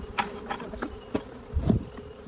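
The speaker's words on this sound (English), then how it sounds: "All right, so you can see a few bees flying around still." Honey bees buzz in a busy swarm as they are poured into a hive, while a series of soft thumps and knocks land at irregular intervals, with a heavier rustle near the end.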